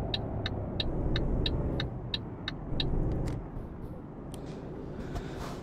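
A truck engine runs in the Euro Truck Simulator 2 driving game, a steady low rumble that dips and recovers, with a row of sharp regular clicks over it at the start and a few scattered clicks later.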